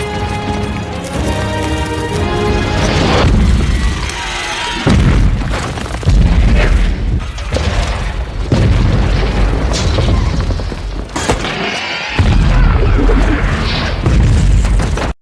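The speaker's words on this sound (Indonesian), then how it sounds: "Panah bom itu pun ditembakkan. Ledakan terjadi di mana-mana." Loud booming explosions from bomb arrows in the film The Great Wall (2016) burst one after another over a dense, rumbling soundtrack, with heavy crashes and debris-like noise filling the whole stretch.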